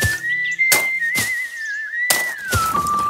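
A man whistles a sustained, wavering tune while working, close and clear, broken by several sharp chopping thuds of peat-cutting work at irregular intervals.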